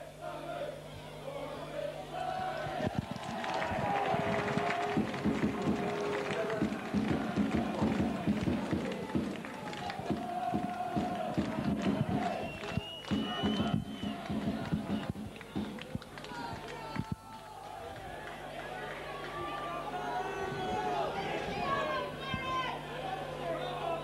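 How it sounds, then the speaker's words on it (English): Rugby league crowd at a Barrow versus York match, a steady roar of shouting and chatter filling the ground throughout, with voices calling out over the continuous noise. "Fickle crowd here shouting, come on Barrow, buck up"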